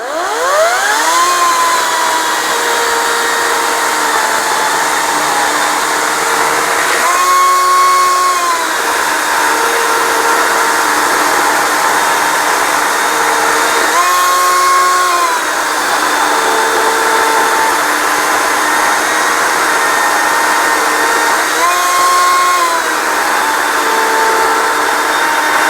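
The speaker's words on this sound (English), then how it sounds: "I hope that demonstration showed you just how easy it is to use this Ryobi chainsaw" A Ryobi 40V brushless chainsaw cutting wood: a steady, loud electric motor whine that dips and strains three times as the chain bites into the cuts, with no talking.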